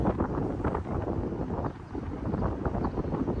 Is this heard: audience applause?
no